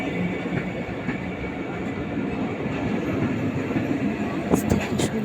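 A train on the Abdul intercity route runs with a continuous rumble and rattling wheel noise, with a faint voice over it.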